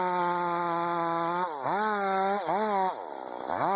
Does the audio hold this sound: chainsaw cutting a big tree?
yes